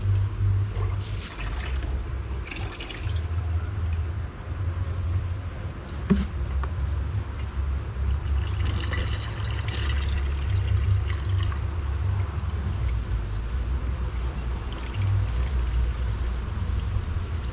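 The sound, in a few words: liquid feed sprinkled on top of beehive frames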